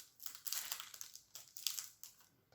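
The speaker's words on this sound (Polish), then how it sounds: "trzeba jeszcze folię e, zdjąć" Plastic shrink-wrap foil being peeled and crinkled off a boxed tarot deck, close up, in several bursts of crackling with short pauses between them, no talking.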